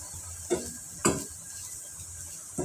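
Onions or tempering being sautéed in a pan while making rasam, with three distinct stirring scrapes against a low steady sizzle, fairly quiet and close.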